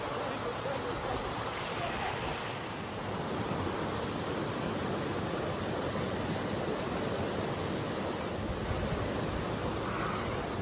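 The Soca River flows through the Lepena valley, its water rushing as a steady, loud, broadband roar, with some wind noise on the microphone, continuing unbroken and close throughout.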